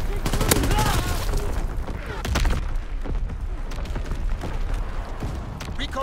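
Artillery fires for effect in Call of Duty WWII, a dense unbroken barrage of booms and gunfire with sharp cracks throughout, under a game voice.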